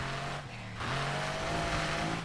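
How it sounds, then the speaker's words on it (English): A car drifts in Need for Speed Heat, its engine droning loud and steady with tonal shifts as it slides and revs, tire noise underneath, no talk. "I'm only drifting with this car"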